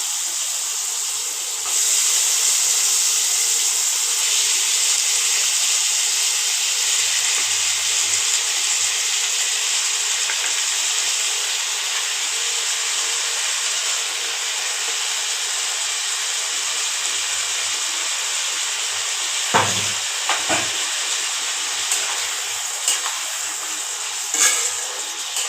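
Bottle gourd hits hot oil with lightly fried onion in a pan, giving a steady, bright sizzle and hiss that runs throughout, with a couple of brief spoon or pan clatters near the end.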